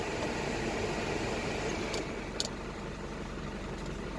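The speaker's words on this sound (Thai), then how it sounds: "เสียงพัดลมจะแรงมากเลยนะครับ" A truck's cabin air conditioning blower fan runs as a steady broadband whoosh at moderate level, with a faint engine hum beneath and a couple of brief clicks.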